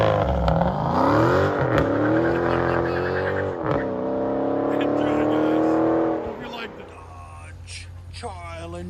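A Dodge Challenger Scat Pack engine revs hard through its exhaust, rising and falling in several loud pulls before settling into a rumbling idle, with voices heard alongside.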